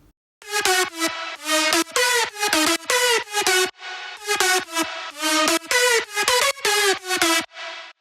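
A bright, thick synth lead plays a rhythmic phrase of short, punchy repeated notes with brief gaps between groups, no voices.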